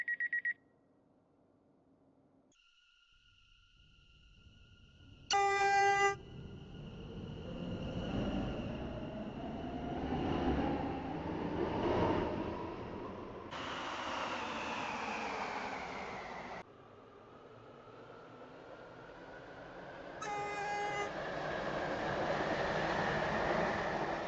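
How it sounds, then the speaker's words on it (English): A train rumbles steadily along the rails toward Newry, its drone swelling and easing, with two short electronic chimes sounding along the way. "This train is formed of three coaches."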